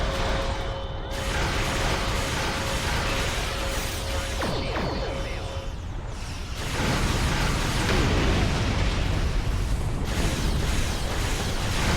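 Weapons fire continuously during space combat in a Star Trek video game, with loud, dense blasts, booms and mechanical bursts layered into a constant roar that swells again partway through.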